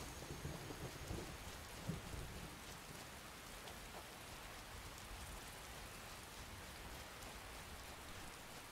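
Steady rain hisses without a break through a thunderstorm in the video game Skyrim, with low rumbling thunder rolling underneath early on, as a constant, even wash of sound.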